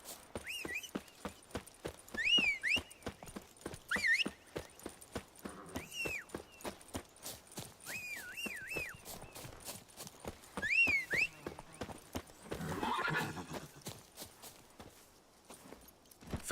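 Roach, the horse in The Witcher 3, walks with a steady clip-clop of hooves, close and distinct, alongside repeated short synthesized chirps and tonal game sounds, with no talk.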